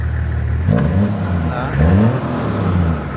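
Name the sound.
Toyota 1HZ diesel engine revving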